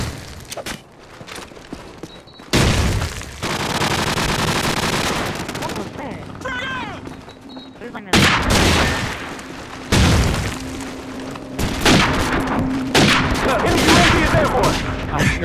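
Gunfire from the Call of Duty 4 team deathmatch game comes in loud, repeated bursts of rapid shots and booms, with short pauses between volleys.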